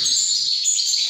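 High, thin chirping from goldfinch chicks, a steady overlapping twitter close by, with no talking.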